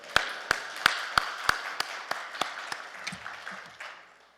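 Slow, evenly spaced claps from a church congregation during a Korean worship service, about a dozen sharp hand strikes that gradually soften and fade, with some faint low murmuring near the end.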